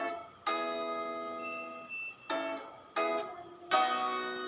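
Electric guitar plays a riff of a song, four separate chord stabs spaced over a few seconds, each decaying quickly, fairly quiet and without speech.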